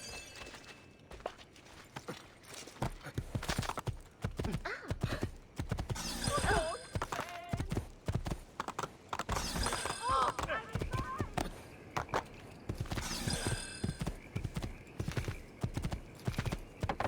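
Horse hooves clip-clopping in a steady rhythm with a few whinnies and neighs in Assassin's Creed 2, moderately loud and continuing for over fifteen seconds with brief bursts of other game sounds.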